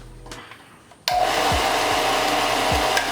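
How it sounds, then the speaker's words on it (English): A belt sander grinds down a part during a turbo and cam upgrade, switching on abruptly with a loud, steady, close-up whine, with a few lower thumps as the part is pressed against the belt. "Back to the old belt sander here."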